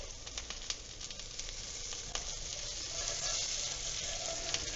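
Grated potato rösti fries in a pan with a continuous soft sizzle and scattered crackling pops, low in level and without talk.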